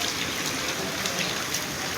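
A dense, steady hiss of rain falls in Mumbai, heard close and continuous with no voices.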